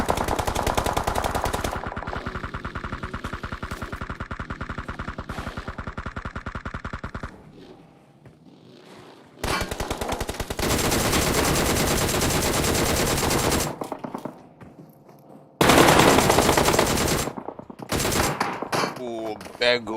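Gunfire in a Nigerian pro league battle royale esports match, with loud rapid automatic bursts in long stretches broken by short pauses and distant echoing shots between them.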